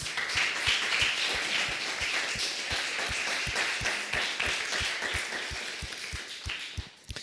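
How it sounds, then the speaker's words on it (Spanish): Congregation in a church clapping in a steady, even rhythm, a hollow beat around three claps per second over a broad wash of cheering, fading at the very end. "Un fuerte aplauso al Señor."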